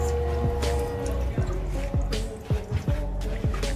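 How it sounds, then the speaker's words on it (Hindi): Water pours in a steady stream from a gas cylinder tank that has been filled with water, with continuous splashing, trickling and intermittent drips close by. "ये जो पानी निकल रहा है ना टाकी के अंदर से निकल रहा है, ये देखो कितना धार गिर रहा है"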